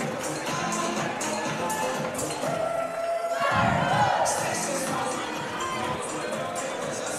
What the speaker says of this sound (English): They do a real short cheer, a little routine, which most high schools do